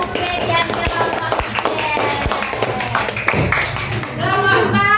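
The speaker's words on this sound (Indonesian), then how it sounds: "tepuk tangan untuk Mas Ubed dan kelompok" Classroom applause for a student group after their presentation, a scattered burst of hand claps with irregular rhythm, mixed with a teacher's voice speaking over it.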